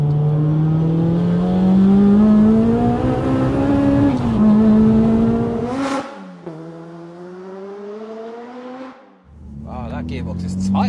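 A 450 bhp Rotrex-supercharged Honda Civic Type R EP3 engine pulling hard in sixth gear, a loud, steady rising drone with supercharger whine, a gearshift dip, then building again, with voices inside the car.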